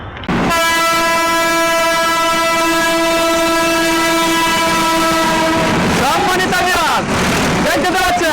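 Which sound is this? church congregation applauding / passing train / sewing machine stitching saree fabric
passing train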